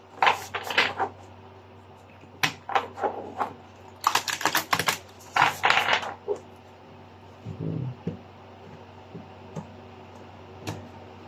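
A tarot card deck is shuffled close up in a quiet room: several short, crisp bursts of riffling and tapping, separated by brief pauses.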